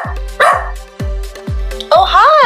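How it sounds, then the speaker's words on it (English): A cartoon puppy in a children's preschool learning animation gives a series of loud, evenly spaced barks with bouncy synthetic sound effects around them. "A puppy has come to explore the planet as well."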